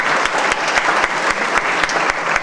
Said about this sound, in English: another round of applause for Mary and everyone who's working so hard